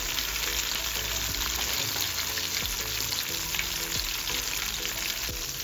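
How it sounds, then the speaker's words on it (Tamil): Marinated fish pieces fry steadily in hot oil in a pan over a medium flame, a continuous crackling sizzle with faint stirring clatter throughout, close and without any talking. "இப்போ மீன் ஒரு பீஸாக திருப்பி போட்டுடலாம். மீடியம் ஃப்ளேமில் வச்சு வேக விடுங்க."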